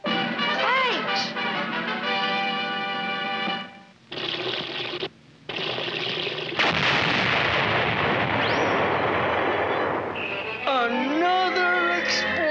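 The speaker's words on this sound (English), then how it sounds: "Another explosion." Cartoon explosions in a Felix the Cat episode on Mars: a long, roaring blast of noise rises out of busy cartoon sound effects and tones, then gives way to warbling effects, loud throughout.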